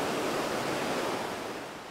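A waterfall and stream flow at a riverside resort in Mae Kampong, Chiang Mai, giving a dense, constant rushing roar that stays loud and even throughout, with no voices.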